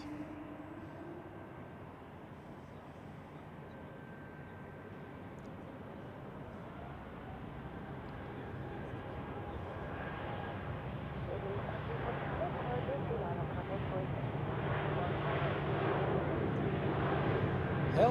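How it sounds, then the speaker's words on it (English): A Helvetic Embraer 190 E2 airliner at Zurich Airport gives off a low, distant roar that builds gradually over the stretch, while a voice talks over it. "Helvetic with an Embraer 190 E2"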